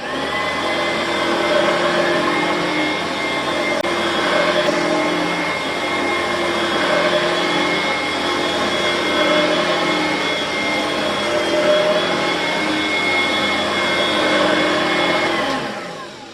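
An Oreck XL21 upright vacuum cleaner runs at a steady, loud, even drone for the whole stretch, close by and alone, stopping abruptly at the end.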